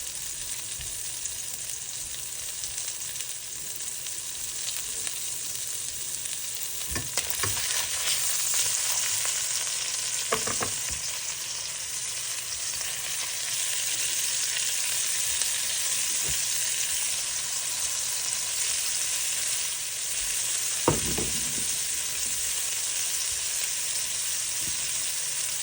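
A quarter pound of meat and slices of bread fry together in a pan, giving a steady close sizzle with a few scattered pops and scrapes throughout.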